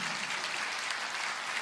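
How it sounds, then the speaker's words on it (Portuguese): A church congregation applauding during a sermon, an even wash of many hands clapping together, moderately loud and sustained without pause. "Pode aplaudir."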